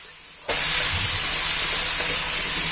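Potato and brinjal for sambar hit a hot pan and start to sauté, with a sudden loud, bright hiss that stays steady and close.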